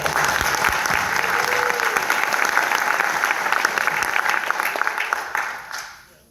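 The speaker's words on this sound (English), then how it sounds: "Everyone give another round of applause." Sustained audience applause at a graduation ceremony, a dense steady clatter of many hands clapping for about five seconds before tapering off at the end, with no talk over it.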